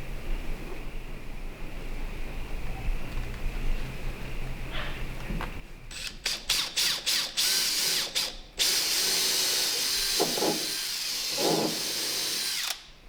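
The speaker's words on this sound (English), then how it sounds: "I'm going to drill one hole somewhere" A power drill bores a hole into a hand-carved wooden trail board for a boat, starting with several short whirring pulses, then running steadily and loudly at close range before stopping.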